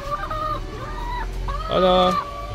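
Brown laying hens cluck and call in overlapping, warbling bursts close by at their nests in a poultry house, with a low background hum.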